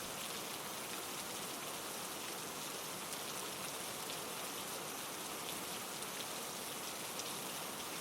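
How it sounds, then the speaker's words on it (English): Gentle rain falls steadily and evenly, a soft continuous hiss of drops on surfaces that stays constant throughout with no voices. "listening to the gentle rhythm of the rain"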